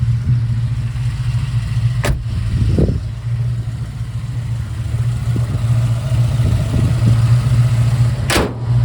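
A 1989 Jeep Grand Wagoneer engine runs with a steady low rumble, close and loud, with a couple of sharp knocks and brief rises in pitch.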